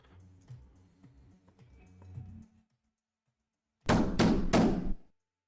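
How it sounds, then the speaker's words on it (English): A cat knocks on a door three times in quick succession, loud and close, after a stretch of quieter background sound. "I have a cat here that knocks on doors."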